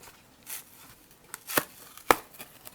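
Plastic piece of a Dollar Tree utensil caddy being worked and snapping off, a few sharp close cracks and clicks spaced apart with quiet between.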